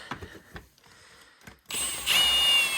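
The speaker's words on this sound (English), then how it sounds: "I know, impact. I'm not tightening it, don't worry. We're just gonna bring it in, snug it up." A power tool, probably an impact wrench, whirs loudly and steadily for about a second, snugging bolts on a Polaris diesel in a workshop after quieter handling noises.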